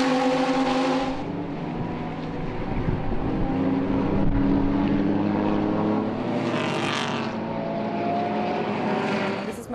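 A loud, continuous roar of race cars, among them a Bessaplast Racing Mini Cooper S, circling the circuit during the Dubai 24 hour endurance race. Engine notes layer and shift with a rising pass-by near the end, and no voices are heard.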